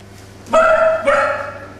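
A submissive dog with its tail tucked lets out two high-pitched yelps in quick succession, the second trailing off, loud and close with no talking.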